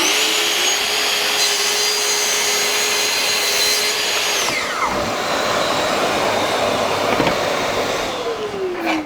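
A track saw slices through a piece of wood along a guide rail, its high motor whine steady and loud for several seconds before the pitch drops as the cut finishes, with a constant dust-extractor roar underneath throughout.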